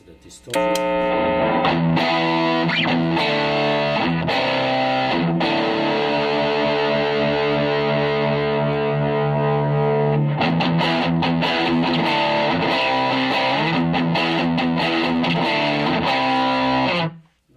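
Electric guitar played through a Cerberus amplifier with distortion switched on, loud and close, heavily saturated chords and sustained notes ringing with a short break midway before more strummed chords.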